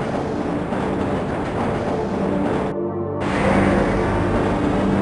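Steady rumbling ride aboard the Black Mesa tram in the Half-Life video game, a continuous rail-car drone with rattling mechanical noise that swells slightly louder toward the end, with no voices.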